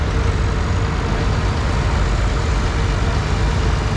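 A Massey Ferguson 1130 tractor with a Perkins 354 diesel engine runs in a tractor parade, giving a steady, loud, low engine drone that holds unbroken throughout with no talk.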